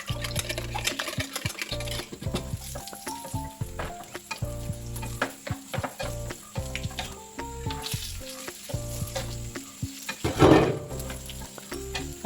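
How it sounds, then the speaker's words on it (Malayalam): Grated coconut roasting in a pan with cardamom and sugar gives a steady, soft sizzle with scraping and stirring, under background music. "തേങ്ങ, പിന്നെ ഏലക്കായി, പിന്നെ പഞ്ചസാര അങ്ങനെ ചേർത്ത് നല്ലപോലെ പിന്നെ റോസ്റ്റ് ചെയ്തെടുക്കലാന്ന്"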